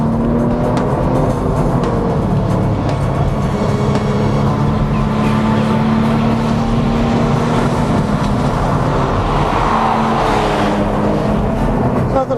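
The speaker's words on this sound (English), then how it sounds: "Now sixth gear, leveling out for the sprint down the back straight" A 2002 Porsche 911 GT2 holds sixth gear on a circuit's back straight, its engine a loud, steady, continuous drone with wind noise layered over it throughout.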